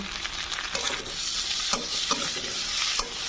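Salted hilsa fish heads sizzle and fry in a hot pan, with a steady crackle broken by several scraping stirs of a utensil.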